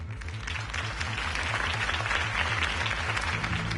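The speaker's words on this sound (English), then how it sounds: "If only Mr. Wayne, my campaign's largest backer, could have heard that applause" A crowd claps loudly and continuously after a campaign speech in a Batman drama, a dense, steady wash of applause over a low, rhythmic pulsing hum in the background.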